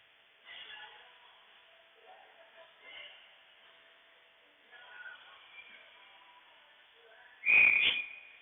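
A referee's whistle sounds at a varsity ice hockey game: one sharp, loud, shrill blast near the end. Before it comes a long stretch of quiet commentary with faint rink noise.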